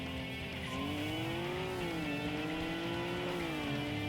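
In the PS2 racing game Tokyo Xtreme Racer 3, a race car's engine drones steadily at high revs, its pitch shifting slightly, with game sound filling the background and no voices.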